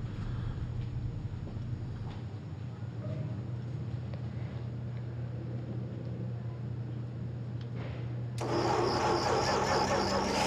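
A troublesome car engine warming up hums at a low, steady idle throughout, then a sudden louder, hissier surge of noise takes over near the end.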